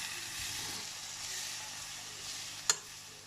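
Mushroom floss stirred in a pan over low heat with sugar and sesame, giving a steady close sizzle and soft scraping, capped by one sharp metallic tap near the end.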